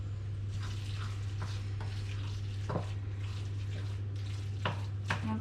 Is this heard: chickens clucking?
no